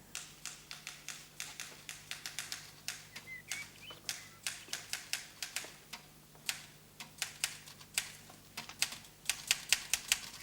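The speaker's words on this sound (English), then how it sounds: "After lunch, I was typing." A typewriter clacks in a brisk, uneven stream of sharp key strikes up close, steady typing for about ten seconds over a low faint hum, in a 1972 crime drama.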